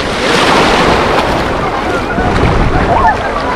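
Surf washes steadily onto the shore at Lazurny beach in Lazarevskoye, Sochi, a broad continuous roar of waves mixed with wind buffeting the microphone, loud and close throughout.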